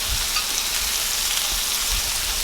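Butter melting in a skillet before onions go in for cheddar bacon mushroom smash burgers gives a steady, close, even sizzle with a soft crackling hiss that holds level throughout, with no talking.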